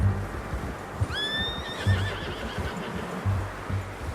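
A single horse whinny in Red Dead Redemption 2 rises and shakes for about a second, over a low rumble of ambient game sound with occasional soft thuds.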